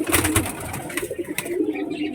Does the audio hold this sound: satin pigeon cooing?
yes